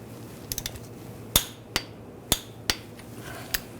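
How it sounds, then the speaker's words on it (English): A torque wrench tightens a bolt on the rear engine torque strut mount of a Volkswagen Tiguan, producing a handful of sharp metallic clicks and clacks at uneven intervals, close up against faint background hum. "this bolt we're going to torque to 65 foot-pounds"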